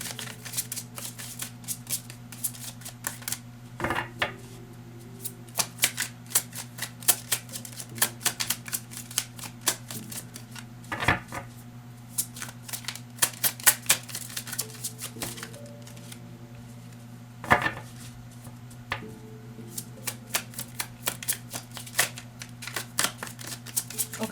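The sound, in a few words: shuffling tarot cards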